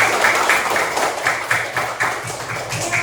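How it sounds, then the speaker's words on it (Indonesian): Schoolchildren in a classroom clapping together at the end of a lesson, a rhythmic, patterned pulse of claps repeating at a steady beat, close and fairly loud. "Tepuk tangan untuk kita semua."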